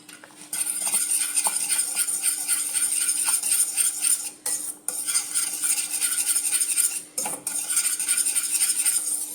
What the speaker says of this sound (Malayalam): നല്ലോണം നമുക്കൊന്ന് മിക്സ് ചെയ്തെടുക്കാം